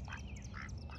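Ducks quacking near a scummy backyard pond, three short nasal quacks spaced apart over steady low background noise, no voices.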